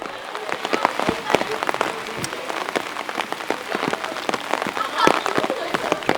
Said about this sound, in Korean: 구름이 잔뜩 끼더니 비가 내리기 시작했다